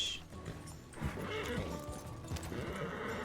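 Horse whinnying and hooves clip-clopping in a RedM Western roleplay game, a neigh near the start followed by steady hoofbeats over ambient game sounds, with faint voice chatter underneath.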